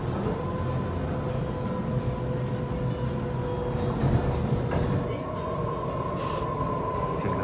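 A train pulls into Cabramatta station platform in Sydney with a steady low rumble of wheels and carriage noise and a faint high tone from the rails, continuing evenly throughout.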